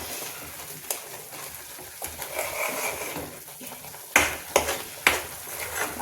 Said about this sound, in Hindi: तो इस साग को थोड़ा सा पका लें।